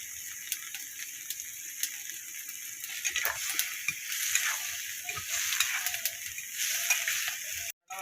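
Steady, low sizzle of fish curry frying in a pan after cumin paste goes in, with occasional stirring scrapes and a sudden sharp knock near the end.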